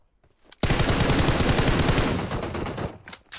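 Sustained automatic gunfire from a PUBG Mobile match, a loud, rapid burst of rounds lasting a couple of seconds and then tapering off, heard alone.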